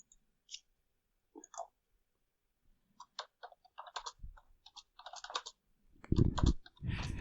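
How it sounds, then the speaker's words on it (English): Typing on a computer keyboard, close and fairly quiet, in irregular bursts of clicks with pauses between them that grow busier and louder toward the end. "sorry, y'all can hear my typing."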